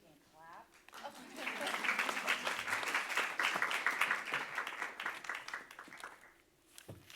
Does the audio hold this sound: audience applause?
yes